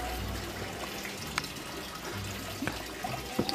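Shower running in a home bathroom, a faint steady stream of falling water with a few light knocks and splashes, heard alone at a distance.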